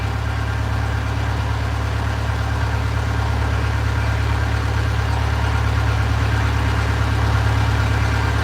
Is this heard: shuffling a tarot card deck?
no